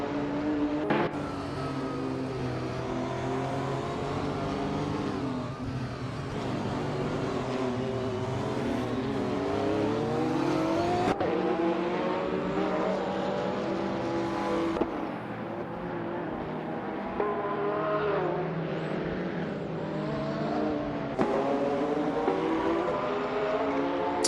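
Video game race cars, including a 1984 Ferrari 288 GTO Elezione with a twin-turbocharged V8, rev and accelerate in a continuous engine drone with rising and falling pitch sweeps and gear changes, loud and without voices.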